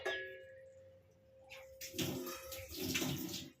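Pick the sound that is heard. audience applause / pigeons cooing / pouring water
pouring water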